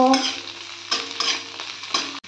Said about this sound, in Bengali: ভালো করে একটু গাজর আর বিনসগুলোকে ভেজে নেব।